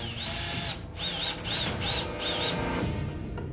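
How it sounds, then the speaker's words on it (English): Power drill boring into a board during a customs search, a loud whining motor that rises and dips in several short pulses as the bit bites, with no talking. "there are not many other alternatives but to drill the board"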